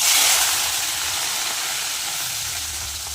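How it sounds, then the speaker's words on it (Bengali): A steady, bright sizzle of fish frying in hot oil, continuous and fairly loud with no talking. "তেল কিন্তু গরম হয়ে গেছে ভালোভাবে মাছগুলো ভেজে নেব"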